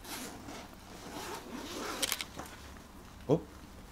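Zipper on a Gaston Luga x Nikon backpack being opened, a soft scraping pull with a couple of sharper clicks and a brief louder tug near the end, close up.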